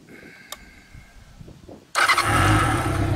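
A cafe racer motorcycle engine fires up after a quiet stretch and settles into a loud, close, steady running roar.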